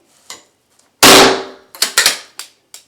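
A powder-actuated nail tool fires a shell to drive a nail into a concrete slab for a shower curb, one sharp loud bang with a ringing decay, followed by several quick clattering knocks and clicks.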